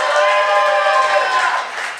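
Audience at an Ignite Denver community event breaks into sustained applause and cheering, a dense wash of clapping and voices that stays loud for about two seconds before easing slightly.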